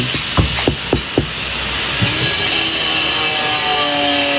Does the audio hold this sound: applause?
no